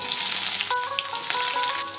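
Chopped onion fries in hot oil with garam masala, cinnamon and cardamom in a kadai, producing a steady, close, crackling sizzle with a faint ringing tone, and no talking.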